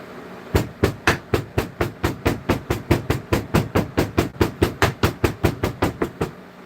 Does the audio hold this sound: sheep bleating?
no